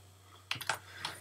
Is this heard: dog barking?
no